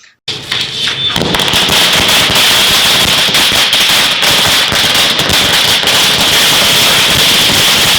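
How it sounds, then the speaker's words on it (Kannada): A long, rapid string of firecrackers bursts loudly and continuously after a brief quiet start, a dense crackling barrage, set off by villagers in Avani celebrating a village panchayat president's election. "ಆವಣಿಯ ಅಭಿಮಾನಿಗಳು ಪಟಾಕಿ ಸಿಡಿಸಿ ಜೈಕಾರ ಕೂಗಿದರು"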